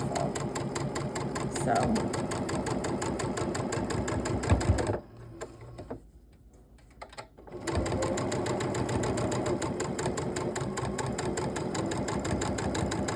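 A sewing machine runs steadily, stitching two raw bias-cut fabric edges together at slow, careful speed, its dense mechanical whir cutting out for a couple of seconds before resuming; a voice speaks briefly.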